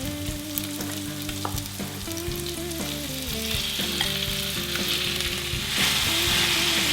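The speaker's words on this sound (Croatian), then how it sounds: "U smjesu koja se prži dodat ću meso." Pieces of chicken breast sizzle and crackle as they are stirred into a frying vegetable mixture for tortillas, a steady close hiss with scraping, and background music running underneath.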